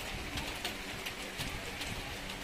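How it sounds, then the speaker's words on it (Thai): Steady rain falls around a coffee shop at an elephant camp in Chiang Mai, a dense, even patter that holds at a constant level for the whole stretch, with no voices. "ฝนตกบรรยากาศดีมากเลยนะคะเอฟซี"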